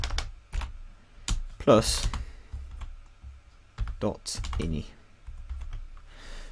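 Typing on a computer keyboard while coding a GameMaker project: bursts of quick, close key clicks and taps scattered between and beneath a man's casual speech.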